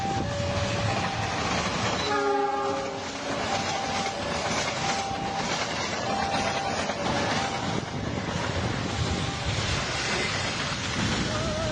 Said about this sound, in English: The train derailed unexpectedly in Indonesia, creating a frightening scene as the cars tilted off the tracks and dust filled the air.